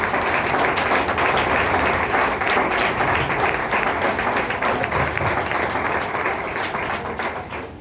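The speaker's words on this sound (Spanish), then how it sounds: "denle fuerte aplauso al Señor" A church congregation claps loudly and steadily in a dense, continuous round of applause during a Spanish-language worship service, easing slightly toward the end.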